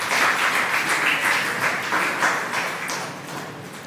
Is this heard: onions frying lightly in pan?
no